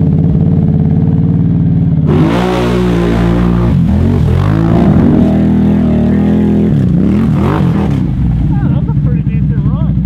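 A pit bike engine revs loudly during a test ride, climbing and falling in pitch through several throttle bursts, with a steady idle rumble between them.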